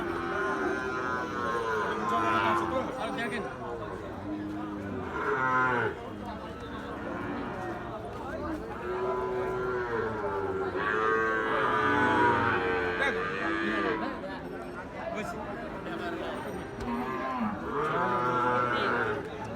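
Cattle, including Gir and Sahiwal bull calves, moo repeatedly amid a busy livestock market crowd, with people talking over the animals throughout.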